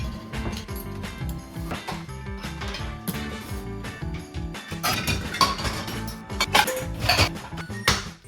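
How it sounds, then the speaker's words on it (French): Dishes being washed by hand: plates, glasses and cutlery clink and clatter repeatedly and irregularly close by, with busier knocks toward the end and no speech. "je vais faire cette batch-là de vaisselle"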